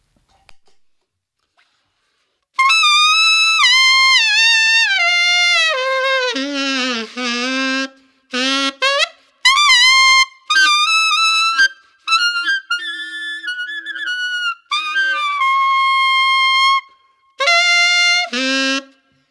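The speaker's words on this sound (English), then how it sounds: "Experiment and try and get one of those really high squeals out." Saxophone played in the altissimo register, a run of loud, piercing high squealing notes with bends and short phrases separated by brief gaps, played alone.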